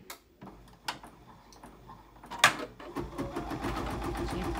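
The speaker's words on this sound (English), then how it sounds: "it's going to stitch on the interfacing again, and Bonnie probably will not like this." A Kimberbell embroidery sewing machine stitching through interfacing on a pillow block, rapid mechanical ticking that builds to a dense, continuous whir.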